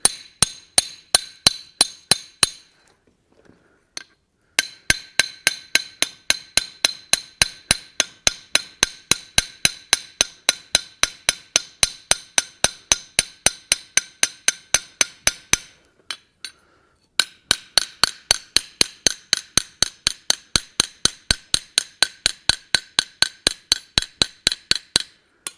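A hammer strikes a pin to rivet a forged iron latch, ringing metallic blows in fast, even runs broken by a few short pauses, close and loud.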